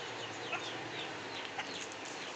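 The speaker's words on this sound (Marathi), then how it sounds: "जी आपली गावरान कोंबडी मित्रांनो ती झाडाखाली बघा कशी माती उकरून काही मातीतले पदार्थ खात आहे" Free-range village hens scratching and feeding under a tree on a poultry farm, with a couple of faint clucks over a steady noisy outdoor background.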